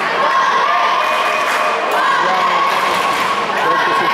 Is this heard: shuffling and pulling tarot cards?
no